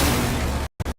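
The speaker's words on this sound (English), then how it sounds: "bringing a new attacker named Ace, who throws sequentially exploding hard breach gadgets that create small, medium, and large problems for defenders." Ace's hard breach gadgets in Rainbow Six Siege go off in a loud, sustained blast, then after a short silence two quick sharp bursts follow in sequence.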